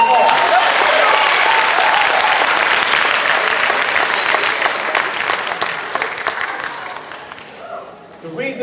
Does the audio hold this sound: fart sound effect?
no